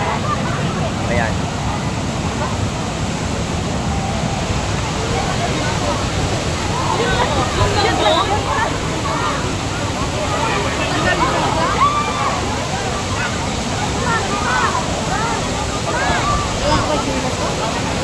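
Taytay Falls in Majayjay roars with strong, heavy water flow, a steady close rush of churning water throughout. People talk over it.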